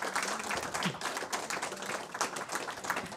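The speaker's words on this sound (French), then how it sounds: "on peut les applaudir, en effet" An audience at a masterclass applauds the four presenters, a faint, continuous patter of many hands clapping heard from some distance throughout.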